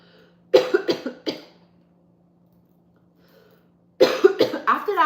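A person coughs three times in quick succession, then silence, then another burst of harsh coughs close to the mic.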